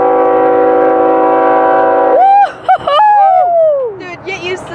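A BNSF freight train at Cajon Pass sounds its multi-chime horn in a long, loud sustained blast, then the tones break off into shifting pitches as people whoop and shout nearby.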